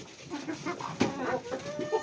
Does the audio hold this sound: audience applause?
no